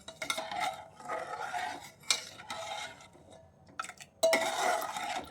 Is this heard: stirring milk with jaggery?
yes